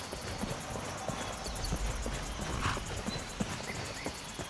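Horse hooves clip-clop in the video game Skyrim: a soft, steady rhythm of light hoof strikes, fairly faint and distant, over quiet ambient game sound.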